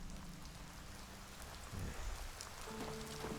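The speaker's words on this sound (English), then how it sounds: "Rain." Rain in the fantasy video game Oblivion Remastered, a steady close hiss of drops pattering on surfaces, with low tonal game sounds faintly underneath.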